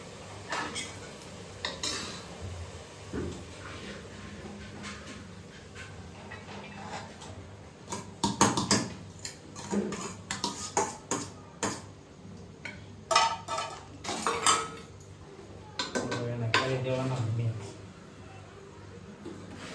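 Boiled rice stirred into cooked gravy in a pot for Gujarati-style pulao, with metal spoon scrapes and clinks against the pot coming in irregular bursts, while people talk throughout.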